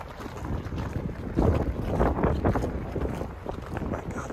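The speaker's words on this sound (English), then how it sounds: "It's insanely windy" Strong gusts buffet the microphone in heavy rumbling bursts at a lake shore in -20° winter cold, with large waves churning in the background and no voices.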